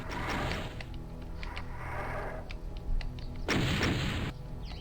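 Explosions and booming blasts from enemy missiles in the video game Doom 2, on the Sunder map The Furnace, come in loud repeated bursts with a big surge near the end and no talking.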